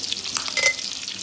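Sausage frying in a canning-prep pan, with a steady sizzle and sharp grease pops crackling close up over about a second.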